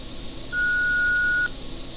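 An answering machine beep before a recorded phone message plays: a single steady electronic tone, loud and clean, lasting about a second against faint background hiss.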